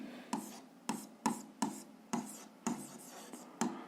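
A pen scratches out an algebra solution on paper in about eight quick, evenly spaced strokes, each a short dry scrape close to the ear, with no voice over it.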